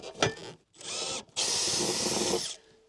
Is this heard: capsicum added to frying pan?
no